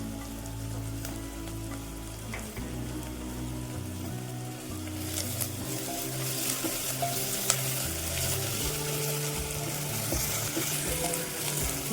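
Onions sautéing in a pan for a Kerala-style mutton curry, giving a steady, dense sizzle and crackle like light rain that carries on unbroken and close throughout.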